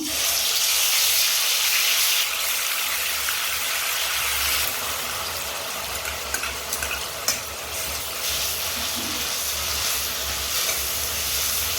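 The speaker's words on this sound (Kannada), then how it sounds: "ಮೊದಲಿಗೆ ರುಬ್ಬಿಟ್ಕೊಂಡಿರೋ ಶುಂಠಿ ಬೆಳ್ಳುಳ್ಳಿ ಪೇಸ್ಟ್ನ ಎಣ್ಣೆಗೆ ಹಾಕ್ಕೊಂಡು ಫ್ರೈ ಮಾಡ್ಕೊಳ್ಳೋಣ." Ground ginger garlic paste fries in hot oil for spicy green chilli chicken: a loud sizzle at first that settles lower, with stirring scrapes and a few clicks of a spoon against the pan.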